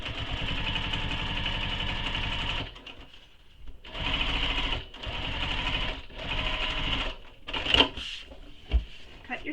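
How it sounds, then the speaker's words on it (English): Sewing machine top stitching along the pressed top edge of a fabric bag panel, running in steady close bursts with brief pauses between runs. "So now we need to top stitch this top edge that we just pressed."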